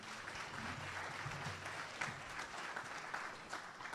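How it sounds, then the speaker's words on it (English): A conference audience applauds in a steady, dense patter of clapping that holds for several seconds, fairly quiet and distant, with no one speaking over it. "So if we want to give him a round of applause"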